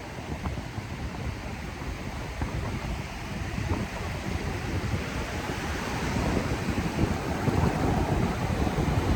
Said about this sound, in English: Look at that high rip current coming in.